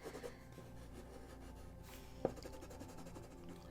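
Pencil sketching a hand on paper: a soft, continuous scratchy rubbing of graphite strokes, quiet and close, with one brief sharper tap partway through and no voices.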